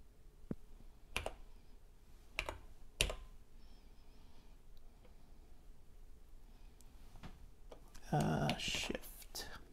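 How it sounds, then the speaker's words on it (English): Sparse, distinct key clicks from a TRS-80 Model 100 portable computer keyboard being typed on upside down, spaced taps across a quiet room, with soft whispered speech and a louder burst toward the end. "it's really hard to type upside down"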